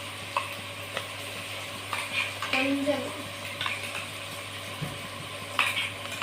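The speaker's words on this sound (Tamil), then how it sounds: "நல்லா வெங்காயத்தை நல்லா வதக்கிட்டே இருக்கும் ஃப்ரெண்ட்ஸ்" Onions are sautéed in a pan while chicken is being cooked, with a light sizzle and intermittent stirring and utensil clinks against the pan, close by and moderately loud, with a constant low hum underneath.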